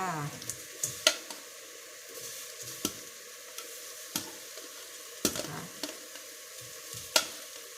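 Small sweet shrimp stir-fried in a pan for a salty Thai shrimp dish, a steady sizzle broken by repeated sharp scraping and clattering strokes of a utensil against the pan, close and alone without talk.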